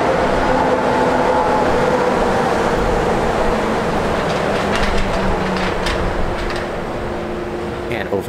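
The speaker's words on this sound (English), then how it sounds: "So, one, monorail, you do kind of hear" A steady, loud rumble of a monorail passing outside, muffled through thick glass of a resort room, with faint voices under the din.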